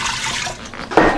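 A short burst of water pouring into a pressure cooker holding corn on the cob, a bright splashing gush that briefly swells louder near the end.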